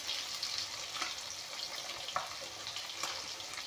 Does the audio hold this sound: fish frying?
yes